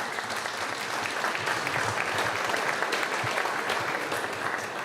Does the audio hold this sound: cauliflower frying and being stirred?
no